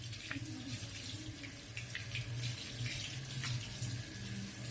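Tap water running and splashing while someone is being washed, a steady close gush with small splashes and drips over a low background hum.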